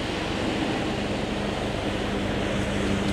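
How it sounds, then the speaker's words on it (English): Steady droning engine noise from seaplanes approaching to land near a beach at Stanley Park, a continuous hum with no talk over it. "There's a couple of seaplanes coming in."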